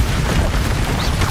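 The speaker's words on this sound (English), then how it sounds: "Expelliarmus." An Expelliarmus disarming spell cast in Hogwarts Legacy, a dense booming magical burst with a low rumbling body and a faint rising whistle, loud and continuous over about a second without any talk.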